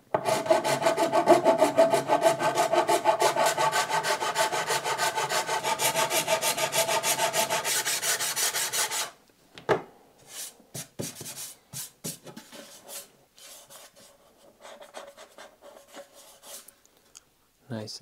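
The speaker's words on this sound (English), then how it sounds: "I'm just gonna use a hand file to knock this down." Steady rhythmic rasping strokes of a hand file scraping a 3D-printed plastic RC car body for several seconds, then sparse scrapes and handling clicks with quieter pauses.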